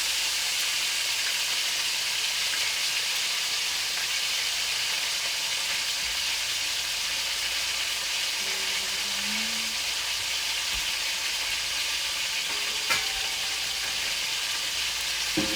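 Lamb shank sears in canola oil in a pot, giving a steady close sizzle and hiss with a few faint clinks and shifts partway through, no talking.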